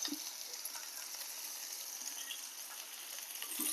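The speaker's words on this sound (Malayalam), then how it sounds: "കുറച്ച് കരിവേപ്പില ഇടാം." Chopped onion and curry leaves fry in oil with a steady, soft hiss that holds evenly throughout, fairly faint and without talk.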